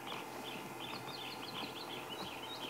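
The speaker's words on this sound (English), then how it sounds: "But you can hear lots of other birds calling." Many wild birds chirp and call together from a drainage line in the bush at sunrise, a faint, continuous mix of tweets set back in the distance.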